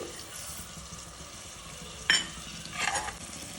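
Ginger and coriander seeds frying in a pan with dried red chillies for mushroom sambar, a soft close sizzle broken by a sharp spatula scrape and a brief stirring rustle.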